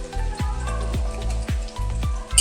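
Whole spices and slit green chillies frying in hot oil, giving a crackling sizzle with sharp pops that come about every half second, close and steady, with no voice.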